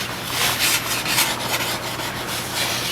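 Sharpening stone rubbing along a snowboard's steel side edge, catching on burrs from rocks, producing a continuous gritty scraping with uneven rhythmic strokes, close and moderately loud without talk.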